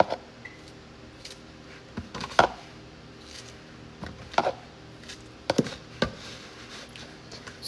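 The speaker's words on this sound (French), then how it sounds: "Là, je coupe les fraises." A knife chops through fresh strawberries on a board, giving sparse, close taps and cuts spaced irregularly over a quiet room background, with no talking.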